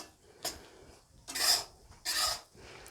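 Whole wheat flour tipped into hot ghee in a kadai for gond ladoo, giving a few soft close-up scraping and rustling bursts, the strongest two in the middle, with quieter gaps between.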